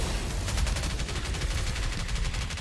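Rapid rifle gunfire in a video game, a dense unbroken burst of fast repeated shots at a steady level for a few seconds, with no talking over it.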